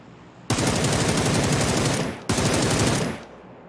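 Assault rifle fire in PUBG on console roars in two long, loud, sustained automatic bursts close up, the second following a brief pause.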